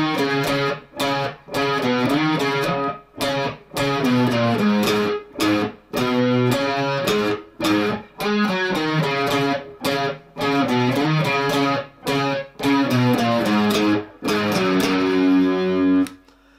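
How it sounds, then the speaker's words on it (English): Electric guitar played through an amp with light distortion and a chorus pedal, chugging repeated chords and riff phrases in steady rhythm with short gaps between bursts, loud and close, alone without talk. "I've put a little bit of distortion on the amp, still got the chorus pedal on."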